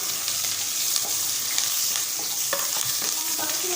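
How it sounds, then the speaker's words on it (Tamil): Ginger, green chili and curry leaves sizzle steadily in hot oil in a pan while being stirred, a dense, continuous crackling hiss close by with small scraping clicks, no voices. "கருவேப்பிலை சேர்த்து மிக்ஸ் பண்ணி விட்டுக்கலாம்"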